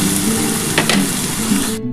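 Green chillies sizzle loudly and steadily in hot oil while sabudana pulao is being cooked, a close, continuous hiss with a brief stirring scrape near the middle.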